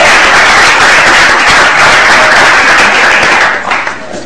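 Loud, dense audience applause on a cricket talk show, steady throughout and easing slightly at the end.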